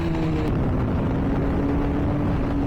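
A Suzuki GSX-R 600 sport motorcycle engine runs with a steady, loud, buzzy drone and a held tone. It sounds close and continuous, with no voices over it.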